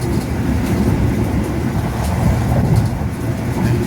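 Argo Bima passenger train rolling at speed through an old station, with a steady, loud low rumble of wheels on rails and a continuous rattle throughout.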